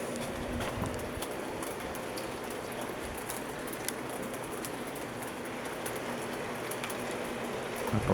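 Steady rain falls during a spring day, a dense, constant hiss of drops with scattered sharper taps on nearby surfaces, continuous and fairly close throughout, with no talking.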